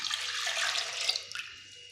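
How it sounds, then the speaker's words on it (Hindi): Water is poured from close by into fresh milk in a pan for hotel-style chai, a bright, splashy pour that runs for about a second and a half and then tapers off. "अब इसके साथ मैं ले लूँगा पानी।"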